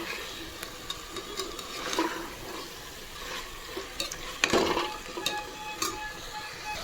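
Potato and chicken curry being stirred in hot oil, a steady frying sizzle with soft scraping strokes and a few sharper clinks of the spoon against the pan, close by with no talk.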